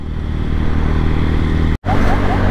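A motorcycle ridden along the Dhaka–Sylhet highway, with a loud, steady engine drone and wind rush heard close up from the rider's position, briefly cut out for an instant near the end.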